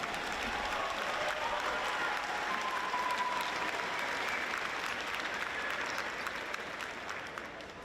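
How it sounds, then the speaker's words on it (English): Steady, dense applause from a large graduation-ceremony audience fills the hall at moderate distance, holding evenly before tapering slightly at the end, with no talking over it. "Please applaud."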